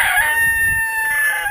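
A meat bird chicken squawks loudly and close, a sustained strained cry that eases off slightly near the end, with no talk over it.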